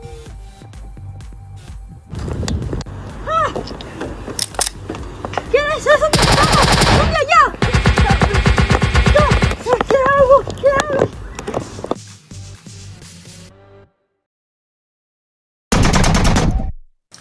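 Bursts of rapid gunfire crackle in loud clusters amid excited shouting voices, with a short silence before a final burst near the end.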